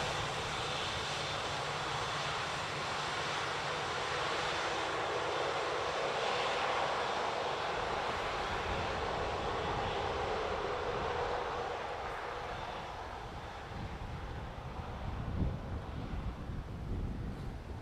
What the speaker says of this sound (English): British Airways next from London Heathrow